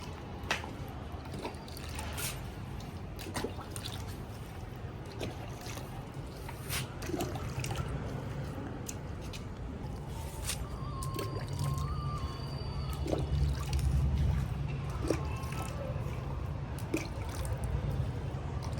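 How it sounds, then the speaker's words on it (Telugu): Water is poured by hand onto potted flowering plants set under a stand in a home garden, a steady trickle and dribble running on for a long stretch at close range, with no one speaking. "సో ఇప్పుడైతే మా మమ్మీ వాటర్ వేస్తుంది"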